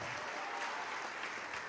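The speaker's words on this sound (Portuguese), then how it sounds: "Vamos aplaudir o Rei dos Reis e o Senhor dos Senhores." A church congregation at an evangelical service applauding; dense, steady clapping from a large crowd, somewhat distant and filling the whole moment.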